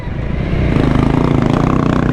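A Honda CRF300L trail motorcycle ridden hard off-road on an enduro test, its single-cylinder engine droning loud and steady with a pulsing, slightly rising note and no talking.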